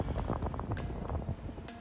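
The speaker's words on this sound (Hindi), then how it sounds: "बहुत तेज़ हवा चल रही है।" Strong, cold wind in Canada buffets the microphone with a loud, continuous low roar and uneven gusts throughout, with no voices.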